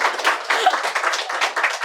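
An audience at a toppers' meet for bank exam achievers claps in a steady patter of many hands that lasts the whole short stretch, fairly loud and with no voices over it.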